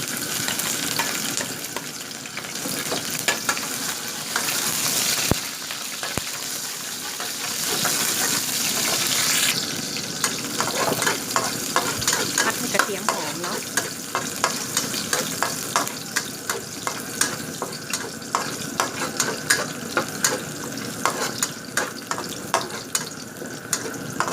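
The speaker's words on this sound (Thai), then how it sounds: "ตั้งกระทะร้อนแล้วนะเจ้า ทอดแล้วเนาะใส่กระเทียมซับลงไปแล้ว" Steady sizzling of garlic frying in a hot pan, with stirring scrapes and occasional clinks throughout, no voices.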